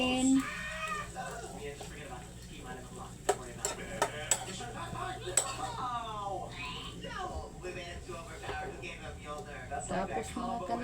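String beans are stirred in a metal cooking pot, with scraping and clinking of a utensil against the pot under a faint sizzle, while someone talks over much of it.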